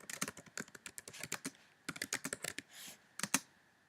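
A new tweet being typed on a computer keyboard: crisp, close key clicks in quick irregular bursts, with a short pause midway and a softer rustle near the end.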